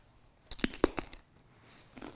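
Crisp bites into raw radishes spread with homemade butter: three or four sharp crunches close up in quick succession, then a softer chewing crunch a moment later, with no talking.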